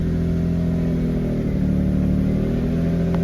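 A project car engine runs roughly at a steady, loud idle with uneven low rumble and a faint whine, close by and continuous with no talk over it.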